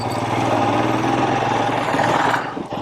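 Royal Enfield Scram 411 motorcycle engine droning steadily while being ridden, a loud, continuous throb with a constant hum that eases slightly near the end.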